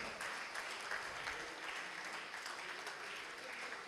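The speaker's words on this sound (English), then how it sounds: "this again needs a huge applause" A dense, steady wash of clapping from a crowd at a Masonic gathering, sustained evenly throughout with no voices standing out.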